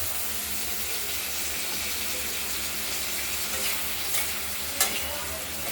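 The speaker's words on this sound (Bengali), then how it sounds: "এবার সিদ্ধ করে রাখা আলুগুলো এর সঙ্গে নাড়াচাড়া করে মশলাটা দেবো" Boiled potatoes are stirred into fried onions in a hot pan, producing steady scraping and sizzling throughout, with a sharper clack of the spoon near the end; no talk.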